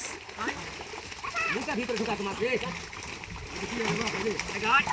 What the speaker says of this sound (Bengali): মলা মাছ উঠানোর জন্য এই যে বড় একটা জাল টানতেছে আর মাছগুলো দেখেন লাফালাফি শুরু করে দিছে